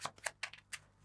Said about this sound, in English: And you give it a shuffle